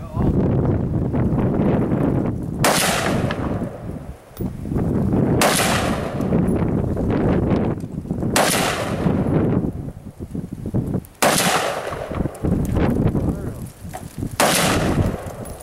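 Gunfire at a shoot house: a series of loud, sharp reports spaced a few seconds apart, each ringing with a brief echo over steady outdoor wind noise.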